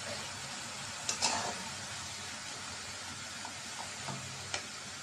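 Lentil greens frying with chillies in a pan sizzle steadily under soft hiss while a utensil stirs and scrapes in a few light clinks, close by with no talk.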